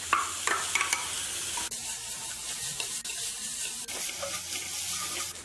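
Tuna cutlet filling stirred in a pan, with a steady close sizzle and scraping of the spoon against the pan in short strokes, no talking.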